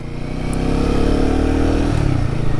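A Royal Enfield Guerrilla 450 motorcycle in performance mode as the throttle opens, a steady mid-pitched engine note that rises slightly, holds loud and close, then drops off near the end, with no talking.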